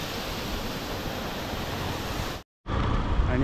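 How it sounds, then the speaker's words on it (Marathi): Roadside waterfall on the Raghuveer ghat road near Khed in the Konkan during heavy monsoon rain: a dense, steady roar of rushing water, loud and close, cutting out for a moment before resuming. "आणि मित्रांनो एक सुंदर असा धबधबा लागला आहे."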